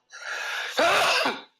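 One close, loud sneeze: a drawn-in breath followed by a sharp, explosive burst that trails off quickly.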